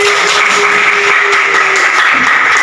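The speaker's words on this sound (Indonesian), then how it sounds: "Ayo, berikan tepuk tangan" A classroom group claps together, a dense steady patter of hands filling the room at close range for a few seconds.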